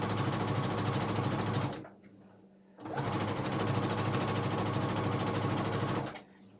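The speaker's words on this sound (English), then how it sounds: "sew them down the length of the strips" A sewing machine stitches fabric strips together lengthwise in two loud, steady runs of fast mechanical whirring, separated by a brief pause, with no talking.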